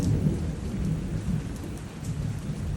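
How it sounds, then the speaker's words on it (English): A low, continuous thunder rumble rolls through a heavy thunderstorm over steady rain hiss, with no voices in between. "the thunder's going"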